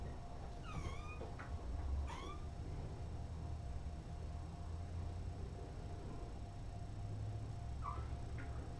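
A feral pregnant cat gives a few short meows near the start and again near the end, set against a steady low room hum with quiet shuffling and no talking.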